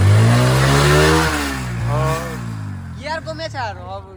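A motorcycle ridden by kids on the way home from school, its engine revving and droning loudly up close before fading, with people talking over it throughout.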